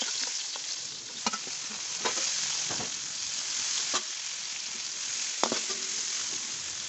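Ingredients sauté in hot oil for stingray sambal, giving a steady, dense sizzle with a few sharp clicks of a spatula against the pan, close and continuous.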